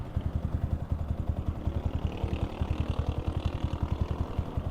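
A Yamaha Sniper 155R motorcycle with 35,000 km on it, fitted with an aftermarket pipe and running a stock map, idles with a steady, rapid low thump that stays even throughout, close and alone.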